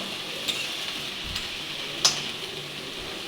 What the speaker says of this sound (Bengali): এবার ভালোভাবে শাকটাকে নেড়ে দেবো বেরেস্তার সঙ্গে